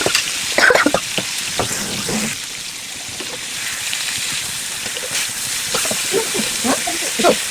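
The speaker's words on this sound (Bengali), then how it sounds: "এবার আমি একটা ফ্রাই প্যানে একটু সরিষার তেল দিয়ে এগুলো" Marinated pieces fry slowly in mustard oil in a frying pan, giving a steady, soft sizzle and hiss with a few light crackles throughout.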